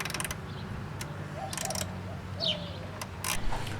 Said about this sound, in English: now let's go ahead and remove the driver's side hood latch bracket